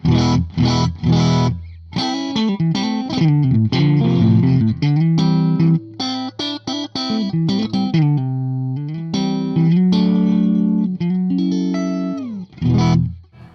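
An electric guitar plays a lively riff of chords and single notes through a crunchy, overdriven Mooer Preamp Live tone capture of a dual Klon preamp, with brief gaps between phrases.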